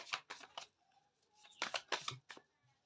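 Tarot cards being shuffled by hand, quiet crisp riffling flurries in two short clusters with a pause between, faint and close.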